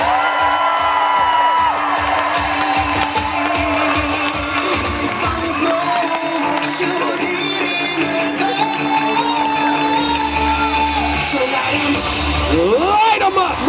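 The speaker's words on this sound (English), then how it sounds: "having a nice round of applause for the one and only Mountain, Sir T.J. Duquette." A festival crowd at a Renaissance fair cheers and applauds for a rider being announced, loud continuous hubbub with whoops and claps, under an announcer's amplified voice.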